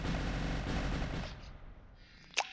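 Cannons firing in the Build a Boat video game: a dense, loud roar of gunfire-like blasts filling the first second and a half, fading out, then a single sharp crack near the end.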